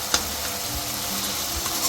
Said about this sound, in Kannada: ನೋಡಿ, ಆಲ್ರೆಡಿ ಈ ಥರ ಫ್ರೈ ಆಗ್ತಾಯಿದೆ.